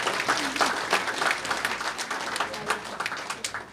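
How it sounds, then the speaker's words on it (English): Audience applause at a Philippine Air Force 65th anniversary ceremony honoring pilots, airmen and civilian employees, a sustained crowd clapping of many hands, moderately loud and steady throughout. "Let us clap for the pilots, airmen, and civilian employees of the Philippine Air Force."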